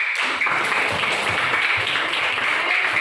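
A seventh-grade class claps together in sustained applause in a classroom, a dense steady patter of hands lasting a few seconds.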